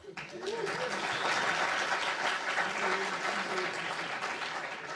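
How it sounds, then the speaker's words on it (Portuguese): A conference audience at an Angular SP tech talk breaks into sustained, loud applause that swells quickly and holds steady as a dense wash of clapping, with some voices mixed in underneath. "E uma salva de palmas para o William."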